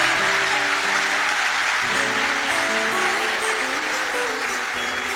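A church congregation applauds loudly and steadily throughout, a dense, sustained wash of clapping under low music.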